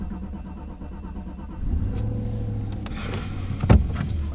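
A car engine idles, then rises into a louder, revving run partway through, with a sharp mechanical knock near the end, close and continuous with no talk.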